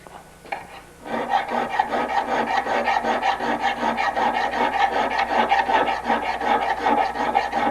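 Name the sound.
filing a burr off a bicycle frame lug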